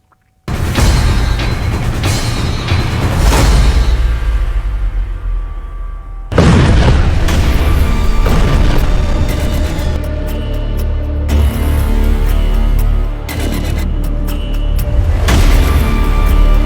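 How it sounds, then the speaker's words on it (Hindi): Explosions at Jebel Ali airport in the UAE, caught in news footage: a heavy boom opens, a second blast hits around midway, and loud, continuous rumbling and roaring fill the spaces between them. "यूएई के जेबल अली एयरपोर्ट पर 20 मिनट में 7 धमाके हुए।"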